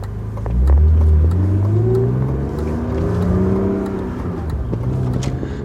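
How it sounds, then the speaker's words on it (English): A BMW E36 M3 is driven, its engine revving up and shifting through rising and falling tones from inside the car, a steady loud drone with no talk. "this is my first go at driving the E36 around"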